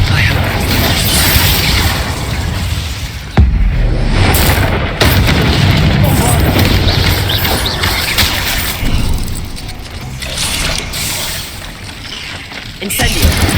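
Bombarda and Confringo explosion spells go off in Hogwarts Legacy: a loud, dense barrage of booms, crashes and mechanical clattering runs almost continuously, with a sharp fresh blast partway through.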